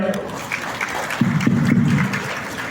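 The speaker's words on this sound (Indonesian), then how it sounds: "Tepuk tangan untuk Pak Roy." Audience applause for a guest speaker at a company event in a hotel, a continuous patter of clapping with a voice speaking over it, growing a little fuller toward the end.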